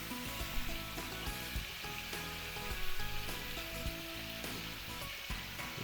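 Giant beef ribs for Asian barbecue fry in a wok, sending up a dense, steady sizzle with crackling pops and occasional stirring scrapes, close and continuous with no talk.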